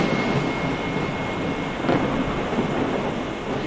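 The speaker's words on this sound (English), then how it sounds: "Eventually, the storm catches up to them." Thunderstorm with heavy rain: a dense, continuous hiss of downpour with low rumbling underneath, loud and steady throughout, with a brief swell partway through and no voices.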